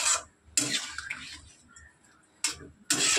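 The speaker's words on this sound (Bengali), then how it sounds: "তো বন্ধুরা দেখো আমি একটুখানি জল অ্যাড করবো, বেশি না, পরিমাণ মতন।" A little water is poured into a curry cooking in a pan, heard as short close splashing bursts separated by quieter gaps, with no talking.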